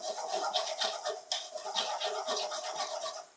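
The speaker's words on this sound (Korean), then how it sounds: "지글지글지글" Ginger fries over low heat in a tablespoon of oil left from frying chunjang, giving a soft, steady, close sizzle with small crackling bursts.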